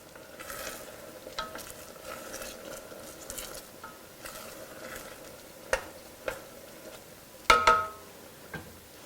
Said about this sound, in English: So we're going to let it boil for about a minute.